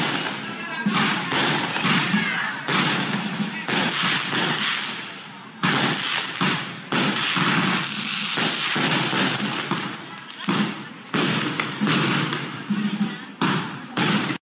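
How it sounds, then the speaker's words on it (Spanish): Fireworks launch and burst in a rapid, dense string of loud thuds and crackling bangs that continue with short pauses throughout, in a cartoon scene from The Amazing World of Gumball. "se van a echar los cohetes artificiales."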